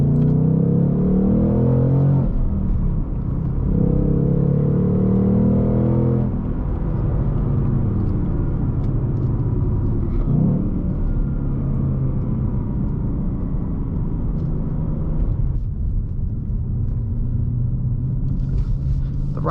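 Ford Mustang Mach 1 V8 engine rumbling while driving, heard from the cabin as a loud continuous low drone that surges and eases with several rev changes, with no talking.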